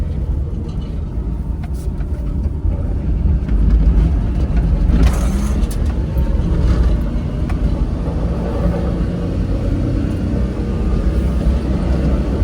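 A Mitsuoka Yuga car on the move, heard from inside: a constant loud engine and road rumble runs throughout, with a brief higher whoosh partway through and no clear talk.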